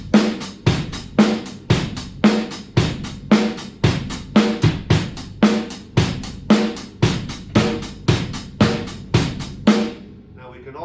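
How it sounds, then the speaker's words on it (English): A drum kit lays down a simple, steady 4/4 beat, with close, evenly spaced kick, snare and hi-hat hits repeating for about ten seconds, then stopping abruptly. "So I'm just going to do a simple 4/4 beat."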